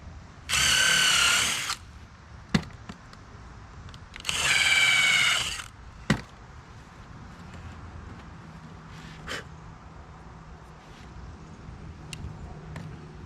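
A power drill whirs in two short bursts as 1 1/4 inch screws are driven into wood, separated by sharp clicks and quiet workshop handling noises.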